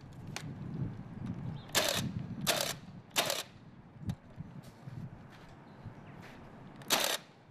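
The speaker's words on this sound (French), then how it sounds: "Nous fixons les lattes poussière sur les chevrons avec le pistolet cloueur." A pneumatic nail gun drives nails into wooden battens on roof rafters, firing sharp loud bursts at irregular intervals, roughly five distinct shots over a low background rumble with no talk.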